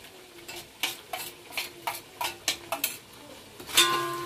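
Ginger-garlic paste with whole garam masala is stirred into duck meat frying in a pan, giving a series of rhythmic scraping spoon strokes over a low sizzle, about a dozen close strokes with a clink of metal near the end.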